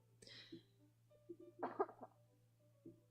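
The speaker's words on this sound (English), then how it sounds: "I keep coughing because like I have like, you know, it's like allergies" A person with allergies coughing, a few sharp close coughs and throat noises in quick bursts against a quiet room hum, with no talking.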